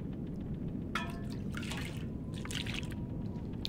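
Toilet water being drunk in The Long Dark, rendered as a few liquid splashes and dribbling trickles in short bursts over a quiet, low background hum.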